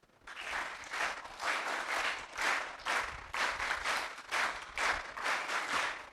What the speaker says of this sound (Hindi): एक बार वीर ताली इस संपूर्ण वातावरण के लिए बजाएंगे सभी।